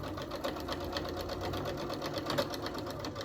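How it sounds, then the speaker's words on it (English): A domestic sewing machine stitches a quarter-inch seam across a quilt square, a steady, rapid mechanical chatter with an even rhythm, soft and close with no talk. "I'm going to set it up on the sewing machine, and I'm going to stitch at 1/4 inch seam allowance"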